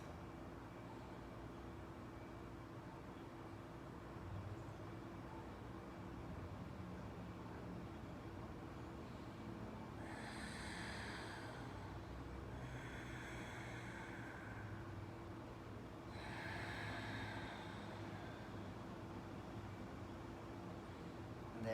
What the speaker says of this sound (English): Keep going with this very loud, effortful breath